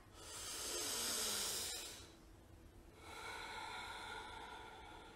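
Deep, slow breathing during a children's mindfulness exercise, with a long airy inhale, a brief pause, then another breathy stretch, close and soft against a hissy background.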